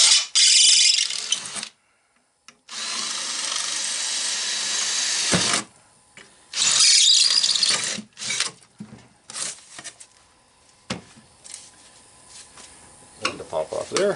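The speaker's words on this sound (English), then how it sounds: "Another little issue with the drill is you get all these little rings of the rivets on the drill bit." A power drill bores out rivets on a shop fan being scrapped, whirring in long bursts separated by pauses and lighter clatter, with some talk in between.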